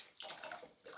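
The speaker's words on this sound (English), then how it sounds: "I can hear the water coming through, and now it's spraying out this tube right here" Water pumped through a portable water purifier and spraying out of its outlet tube, a brief close hiss of gushing water.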